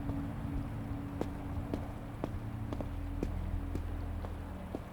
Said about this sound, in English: As I'm walking, I hear footsteps behind me.